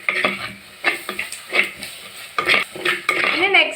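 Chopped homegrown tomatoes tipped into a pan of chicken curry masala, with clattering spoon-stirring and metal scraping against the pan over a soft sizzle, in loud close bursts.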